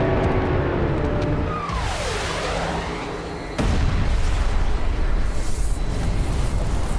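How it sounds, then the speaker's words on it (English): A dramatized asteroid impact explosion builds as a dense, roaring rumble with a sweeping, falling tone, then erupts into a louder, sustained blast that keeps booming. "The asteroid hits with an explosive force of 100 trillion metric tons"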